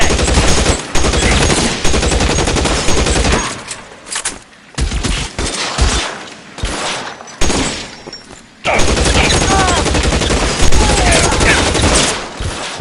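Sustained rapid gunfire from a shootout in the video game L.A. Noire, loud and dense, breaking into scattered shots mid-way before a heavy burst resumes; no speech.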